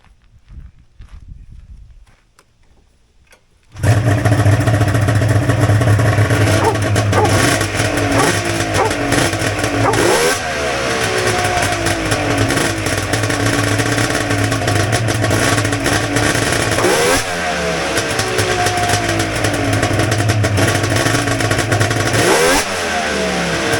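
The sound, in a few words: Polaris vintage snowmobile three-cylinder engine running and revving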